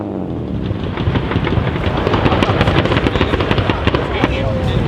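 Gunshots crackle at a car meet, a dense rapid string of sharp bangs over crowd noise and engine rumble, close and loud throughout.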